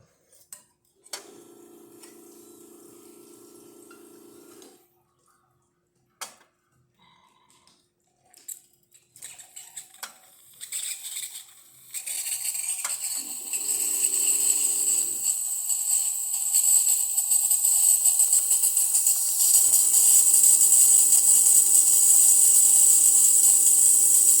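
A freshly serviced DeLonghi Magnifica XS coffee machine runs its milk steamer, giving a loud, steady, hissing rush that builds and holds for about twelve seconds, after quieter machine whirs and clicks.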